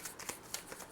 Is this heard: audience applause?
no